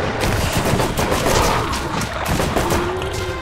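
Rapid, dense shotgun blasts from a mini shotgun in the video game Borderlands, firing continuously and loudly for several seconds with overlapping bursts and a faint tonal whine near the end.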